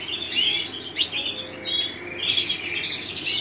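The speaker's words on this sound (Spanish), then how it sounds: "¿Lo ves cómo le da de comer la pajarita ya al final?" Pet canary chirping as it feeds its chick, a steady run of bright, high tweets and short trills close by, with no voices.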